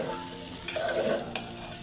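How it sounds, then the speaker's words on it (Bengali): Rice is fried and stirred in a pan while making khichuri, a close continuous sizzle with a few scraping stirs and light utensil knocks, with no voices. "কতক্ষণ ধরে চালগুলো ভেজে নিয়ে তারপর পানি দিয়ে দেব।"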